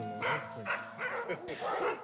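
Alaskan husky dogs bark in several short, fairly faint yips and woofs from some distance, with a voice talking over them.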